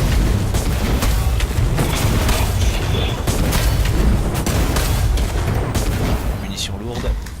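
Super ability unleashed against a crowd of enemies in the Destiny video game, dense continuous gunfire and booming blasts layered loudly throughout, with a person talking over the action.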